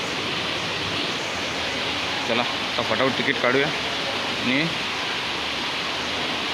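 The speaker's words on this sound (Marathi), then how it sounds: "पाऊस पण आज खूपच आहे" Heavy monsoon rain pours in a steady, dense hiss outdoors while someone speaks briefly as a group hurries toward a metro and local train station.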